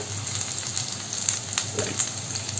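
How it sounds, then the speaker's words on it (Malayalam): Peeled garlic sautés in coconut oil for a Kerala-style garlic pickle: a steady, close frying hiss with faint crackles throughout and no voices. "ഇത് വെളിച്ചെണ്ണയിൽ നന്നായിട്ടൊന്ന് വാട്ടിയെടുക്കണം"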